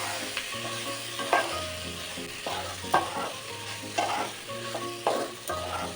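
Fried soybeans are stirred with spices in a pan, with a spoon scraping in bursts about once a second over steady sizzling and a faint low hum, close and alone.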